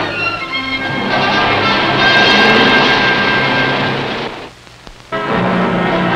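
A military L-23 Seminole twin-engine airplane in flight, its steady engine drone and propeller hum loud and sustained, briefly dropping away near the end before returning.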